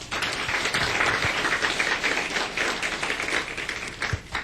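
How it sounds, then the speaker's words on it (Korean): An audience in a church gives sustained applause, a dense, steady clapping that carries on evenly for several seconds. "이분들을 위해서도 한번 우리가 격려의 박수를."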